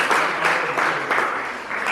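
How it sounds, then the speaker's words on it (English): A crowd at a 2022 talent competition final gives a round of applause: loud, continuous clapping from many people, fairly close, steady throughout with slight swells and no voices. "I want you to give some round of applause when he's standing."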